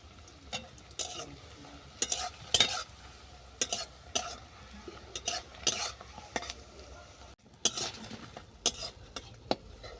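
Bread pieces fry in oil with a quiet sizzle, broken by repeated sharp scrapes and clinks of a utensil stirring and lifting them from the pan.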